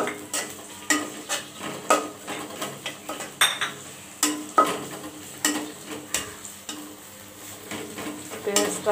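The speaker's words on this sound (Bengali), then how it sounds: "পেঁয়াজ কুচি দিয়ে দিলাম।" Chopped onion fries in soybean oil in a wok with a soft, constant sizzle, while a utensil stirs and scrapes against the pan in repeated clattering strokes.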